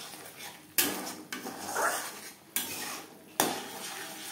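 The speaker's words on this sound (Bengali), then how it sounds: "কাঁচা গন্ধ যাওয়া পর্যন্ত নাড়াচাড়া করে নেব" Ground spices with a pinch of turmeric being stirred in a pan over a medium flame. A metal spoon strikes and scrapes the pan several times at uneven intervals against a soft background hiss, with no voices.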